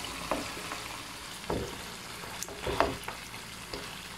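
Mutton frying in oil with Kashmiri chilli for a korma, giving a soft steady sizzle punctuated by a few brief stirring scrapes and clatters, close and moderately quiet, with no talking.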